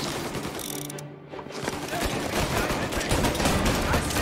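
Gunfire in Mafia: Definitive Edition, a dense continuous fusillade of overlapping shots with a brief lull, then resuming louder and sustained.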